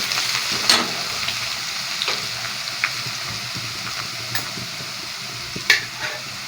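Steady sizzling of ginger and garlic frying in oil, with scattered scraping clicks of a spoon stirring through the pan.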